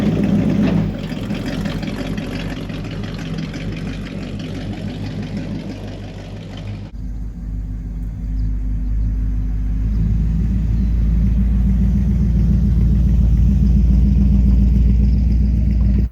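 A 1940 Ford half-ton pickup with a flathead V8 towing a loaded trailer, its engine rumbling steadily and building into a louder, deeper drone as the truck gets underway, with no talk.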